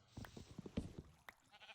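Short, faint bleats from a sheep in Minecraft, a few quick bursts clustered together in a brief moment.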